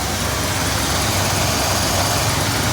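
The engine of a Ford F100 pickup truck idles while warming up, a steady low rumble close to the microphone with broadband hiss and no talking.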